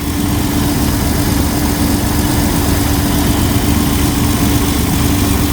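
A Jeep 4.0 engine idles smoothly up close after an idle air controller replacement, a steady low rumble with an even hum and no changes in pitch or rhythm.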